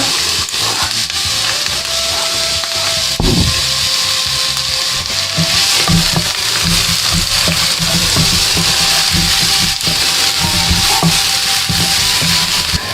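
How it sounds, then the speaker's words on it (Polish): Onions sizzle and crackle steadily in olive oil in a hot pan, a loud constant hiss with occasional scraping stirs. "na początek wrzucamy tu cebulę i podsmażamy"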